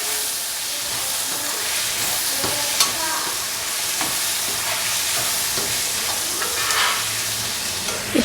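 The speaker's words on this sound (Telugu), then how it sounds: "ఇప్పుడు బాగా టమాటా వేసుకొని బాగా కలబెట్టాలి." Chicken frying in a pan with tomatoes being stirred in for a Telugu-style chilli chicken, giving a steady hiss and sizzle with scattered clicks and scrapes of the spoon throughout.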